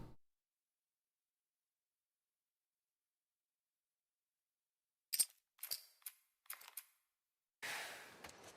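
Gunshots in the video game The Last of Us Part II, a handful of sharp, separate cracks in quick succession after a long silence, then a louder, longer burst at the end.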